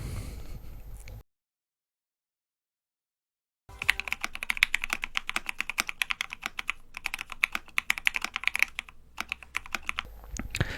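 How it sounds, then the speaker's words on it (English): Rapid, steady typing on a computer keyboard, close and crisp, with a silent gap early on before the clicking resumes and continues to the end. "those keyboard sound, oh my god, it's just it's music to my ear."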